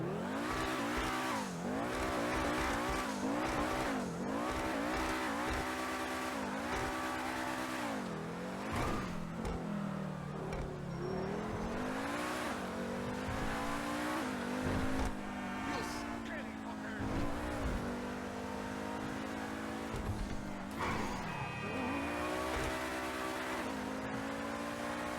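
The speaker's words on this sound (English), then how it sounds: "we do have to do a sound test on this car" The Ubermacht SC1 car in GTA Online revs and accelerates repeatedly, its engine note rising and dropping through gear changes with occasional tire squeal, loud and continuous for around 25 seconds.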